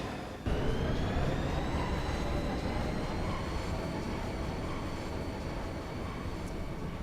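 A train's continuous low rumble in the video game Final Fantasy VIII fills the scene, steady and fairly loud, with a faint high whine running through it.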